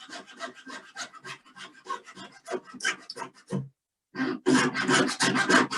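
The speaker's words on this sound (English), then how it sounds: "just sawing through my coil" A hand saw rasps rapidly through a metal coil in quick back-and-forth strokes, close and harsh, with a brief pause before the cutting resumes.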